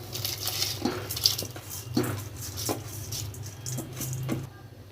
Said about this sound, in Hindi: अब चावल डालेंगे।